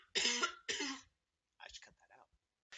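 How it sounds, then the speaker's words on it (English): Two sharp, close coughs in quick succession, followed by softer throat noises and a short murmur. "I'm gonna cough."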